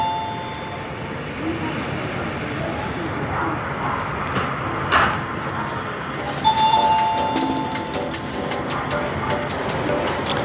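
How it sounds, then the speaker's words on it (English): Electronic door chime in a hotel lobby dings once as the door opens, a short bright tone over steady room hum and distant murmur, with a second fainter ding moments later. "and anytime this door opens, you will hear that dinging"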